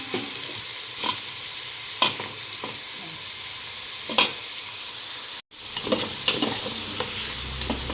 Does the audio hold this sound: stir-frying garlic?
yes